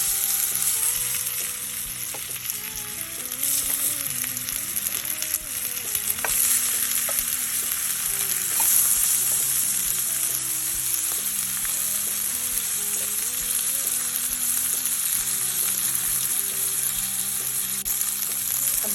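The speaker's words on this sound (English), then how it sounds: "And we'll be ready to fry soon." Salmon fillet coated in spice and fry mix frying in a pan, a dense, continuous close sizzle with occasional crackles and faint clinks of utensils, steady in loudness, no voices.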